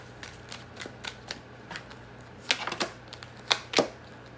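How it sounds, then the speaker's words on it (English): A deck of tarot cards is shuffled by hand during a spiritual reading, giving a run of quick, crisp riffling snaps that grow louder near the end, with no talk over them. "let me shuffle."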